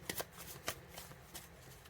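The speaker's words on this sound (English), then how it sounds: "I'm shuffling the cards" Tarot cards being shuffled by hand, a quiet close series of crisp riffling snaps and slides in an uneven rhythm.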